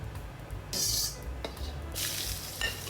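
Torn cabbage leaves, hard stems removed, stir-fried in a small home wok over medium heat, with bursts of loud sizzling and spatula scrapes between quieter stretches.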